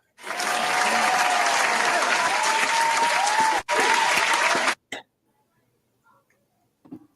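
Enthusiastic applause for the weekly standings leader during a college football picks show, a dense, steady burst of clapping lasting about four and a half seconds with a brief dip midway, then cutting off into near silence.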